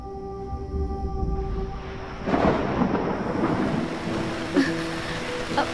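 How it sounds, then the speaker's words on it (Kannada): Steady rain falls while a deep roll of thunder swells and rumbles for several seconds, with a faint tonal hum underneath. "ಮಳೆ ಬರ್ತಾ ಇದೆ."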